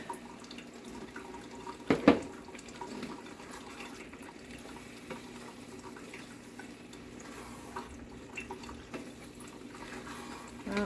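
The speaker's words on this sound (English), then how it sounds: "Add water to this and see." Water runs steadily from a tap into a pan, a quiet continuous trickle with a brief clatter near the start.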